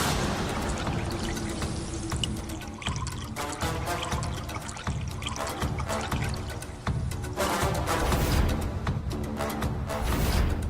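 Milk poured over a person in a Hindi TV serial scene, heard as a continuous splashing, gushing stream of liquid with dripping and trickling, fairly loud and close, with no talking.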